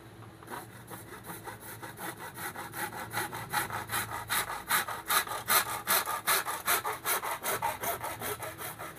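A hand saw cuts through a pipe for a 2-inch well jet pump nozzle, its rasping back-and-forth strokes close and steady, growing louder and quicker as the cut deepens, with no voices.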